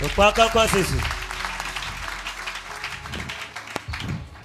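A church congregation breaks into applause and cheering for Jesus right after a brief spoken voice, a moderately loud wash of clapping that lasts through the rest of the moment.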